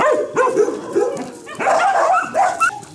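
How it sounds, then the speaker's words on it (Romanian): Puppies at an animal shelter bark, yip and whimper close by in a busy run of overlapping calls, high and excited, with short gaps between bursts. "Și avem deja pe lângă noi cățeluși."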